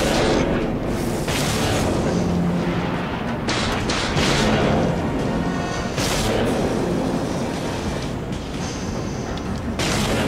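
Starship weapons from the space combat game Dreadnought, a dense continuous barrage of booming shots and explosions, loud and layered with repeated heavy bursts throughout and no pauses.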